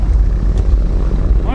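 A diesel off-road vehicle, one of a group of Nivas, Dusters, a Touareg, a Sobol and a Hunter on a winter off-road outing, has its engine floored to full throttle, a loud continuous low roar with rising revs near the mic.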